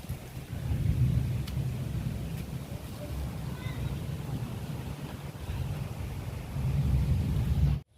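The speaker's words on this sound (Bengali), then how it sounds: "এখন পর্যন্ত মেঘ ডাকছে, কিন্তু বৃষ্টি হয়নি" Low, continuous rumble of distant thunder rolling on before any rain falls, swelling slightly at the start and again near the end, with faint wind noise.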